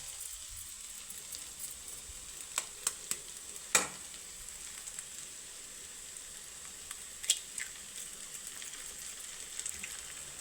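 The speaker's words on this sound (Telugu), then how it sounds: "ఇప్పుడు ఈ స్టేజ్లో ఇప్పుడు మనం ఏం చేయాలంటే ఎగ్స్ పగలగొట్టి వేసుకోవాలండి" A steady, quiet sizzle of frying cauliflower curry fills the scene, broken by a few sharp clicks and taps as eggs are cracked into the pan, with the crisper pops coming near the start and middle.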